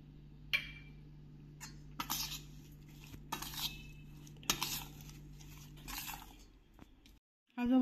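A metal spoon clinks and scrapes against a container as salt goes into an amla and green chili pickle in a home kitchen, a few sharp taps and rustling scoops over a low steady hum.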